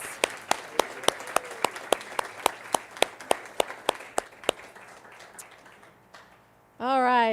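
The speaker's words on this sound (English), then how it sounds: "One more round of applause." Sparse audience applause at a community gathering: a few loud, sharp individual claps spaced at a steady pace over a softer patter of hands, fading out before a voice begins speaking at the very end.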